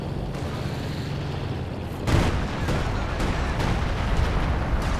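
Artillery shells from a commander barrage in Company of Heroes 2 land in a 1v1 battle. A string of heavy booms comes at about half-second intervals over steady background battle rumble.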